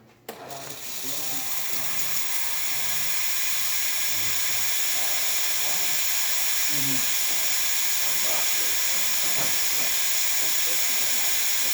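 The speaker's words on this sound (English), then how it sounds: "Then we are going to test the steam function." A Breville Oracle Touch espresso machine's steam wand hisses loudly and steadily, a continuous rushing hiss with a faint low rumble beneath it.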